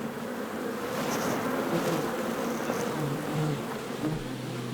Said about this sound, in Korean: 벌통 내부 온도가 올라가면서 바깥쪽 벌들이 밀려 나왔습니다